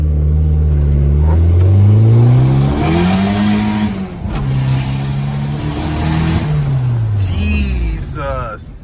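A stock car with upgraded injectors accelerates hard, its loud engine note climbing and dropping through repeated gear changes from close inside the cabin.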